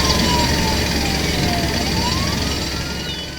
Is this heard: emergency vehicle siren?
yes